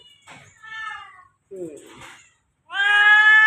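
A sick former stray cat meows several times, close and clear, with drawn-out cries and short pauses between them, the last call louder and longer.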